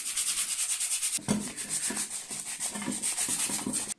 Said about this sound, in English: Let's sand it from inside and from outside as well.